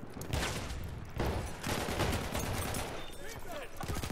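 Shotgun blasts and other gunfire crack in quick succession during a Battlefield 1 Conquest match on the Ballroom Blitz map, loud and close, with a few sharp bursts set in a dense, continuous battle din while voices speak over it.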